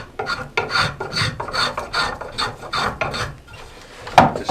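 A spokeshave smooths and shapes a wooden adze handle, making a steady run of close, rhythmic rasping strokes, roughly two per second, with no talking.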